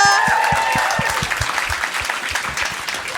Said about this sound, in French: Ouais, ben vous pouvez applaudir, là.